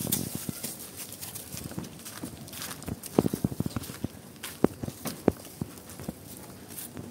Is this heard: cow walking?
yes